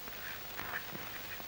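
A duck quacks a few times in quick succession in an indoor film scene, the calls nasal and fairly close over a steady background hiss.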